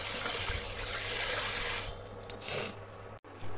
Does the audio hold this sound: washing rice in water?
yes